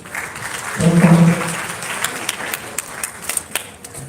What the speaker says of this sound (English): can we give you a round of applause?